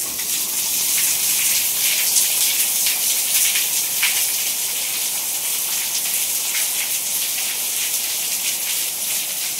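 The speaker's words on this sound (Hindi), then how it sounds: "तो इतनी तेज़ बारिश होती है" Heavy rain pours steadily in Himachal, a dense, continuous hiss of downpour on surfaces, loud and unbroken throughout with no voices.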